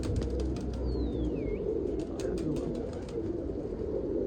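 Pigeons coo outdoors, soft calls under a constant broadband background hum, with a thin whistling tone sweeping down briefly near the start.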